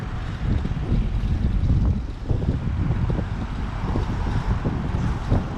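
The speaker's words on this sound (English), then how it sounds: "You might be hearing the wind." Wind gusting along the Hudson River bike path in lower Manhattan, a steady loud rumble buffeting the microphone throughout, with no talking.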